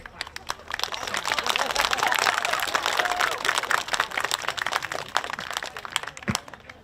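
Audience clapping fills a seventh grade school awards ceremony, a dense, steady patter of many hands that holds for several seconds and thins out near the end.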